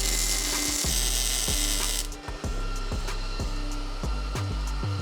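A Miller Multimatic 235 welder runs a weld with a steady electrical buzz and hiss. Rhythmic pulses recur about every half second, loud and close, with no one speaking.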